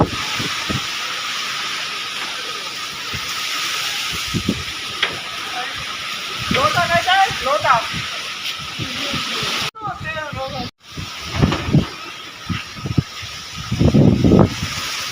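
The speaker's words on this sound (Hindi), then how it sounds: "काफ़ी तेज़ हवा चल रही है और काफ़ी मिट्टी भी है गाइस" A violent windstorm with dust blowing, roaring as a steady, loud hiss of wind throughout with gusty surges, while voices speak briefly underneath.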